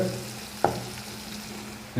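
Fish frying in hot oil in a pan with a spice mix, steady sizzling broken by a stirring scrape near the start and another at the very end.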